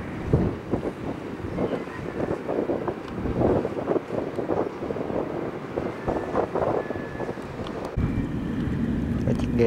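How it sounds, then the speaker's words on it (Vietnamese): Long boat or ferry moving along a river under strong gusting wind, its low engine rumble mixed with heavy buffeting wind noise on the microphone, steady and fairly close. "Cái chiếc ghe đang đi xuống nè."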